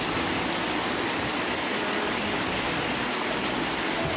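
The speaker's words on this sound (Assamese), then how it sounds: "আৰু চাওক বৰষুণ ষ্টাৰ্ট হৈ গ'ল।" Rain beginning to fall on a cloudy day, heard as a dense, even hiss that holds steady throughout with no voices.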